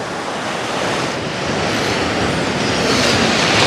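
Strong sea surf pounds a beach at Anapa, a loud, dense, continuous roar of breaking waves mixed with gusting wind noise on the microphone and no talking.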